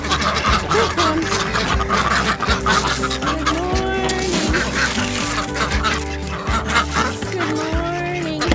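Ducks and geese in a backyard pen quack and cluck continuously in a dense, loud outdoor chorus, with calls overlapping throughout.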